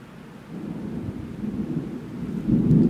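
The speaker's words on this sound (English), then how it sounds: "I'm not scared of thunder. I love it. I love it when it's loud." A deep rolling rumble of thunder from a thunderstorm in Oswego builds and grows louder toward the end, with faint rain in the background.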